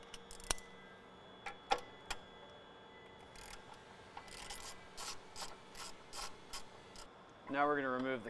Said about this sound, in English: first step of the install is just going to be removing this cover with a 14 mil